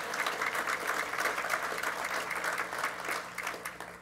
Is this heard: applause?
yes